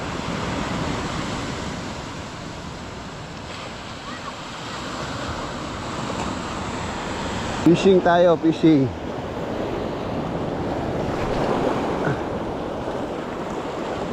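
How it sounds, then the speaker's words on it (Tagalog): Large ocean waves break and roll continuously along a shore, a steady roar of surf mixed with wind buffeting the microphone, with someone briefly speaking partway through. "Ang lalaki ng mga alon."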